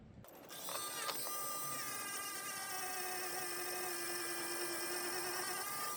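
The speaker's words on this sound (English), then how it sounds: "So, multi-Dremel with a polishing head" A multi-Dremel rotary tool fitted with a polishing head, spinning up with a whir and settling into a steady high-pitched whine with overtones, close and continuous throughout.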